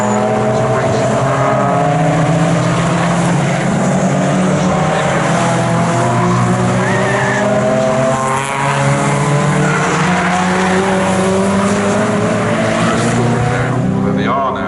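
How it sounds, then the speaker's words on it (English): A racing car with a front splitter laps the Snetterton circuit during a trackday qualifying session, its loud engine whining steadily as it rises and falls through the gears, close and continuous the whole way. "It's a racing car."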